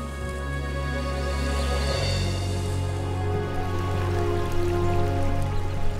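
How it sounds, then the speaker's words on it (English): A stream flows steadily over a gravel bed in Denali National Park, Alaska, producing a continuous close rushing wash with a constant tonal hum running beneath it. "I was just sitting on the gravel bed and I was listening to the water"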